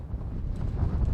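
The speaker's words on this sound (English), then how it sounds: "It's very open, high up, and the wind is really strong here." Strong wind buffeting the internal microphone of a Canon R50 V camera on an exposed, high World War II gun platform, a steady low rumble and roar with no voices.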